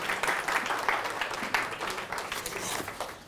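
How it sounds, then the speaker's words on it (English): Audience applause for a speaker, Mr. Yogesh Upadhyaya, at an IIT Bombay alumni event; a steady, moderate round of clapping from a crowd lasting a few seconds, slightly distant. "Loud round of applause for Mr."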